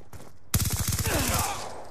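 Rapid automatic gunfire from a first-person shooter, Call of Duty: Black Ops 2, starting abruptly after a brief quiet and rattling in a fast, even burst that holds loud to the end, with no voices.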